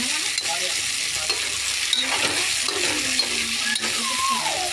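Paneer rice masala with turmeric frying in a pan, a continuous close sizzle with occasional scrapes and stirring clinks of a utensil, no talking.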